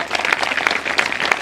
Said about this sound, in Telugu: ఒకసారి చప్పట్లు గట్టిగా కొడదాం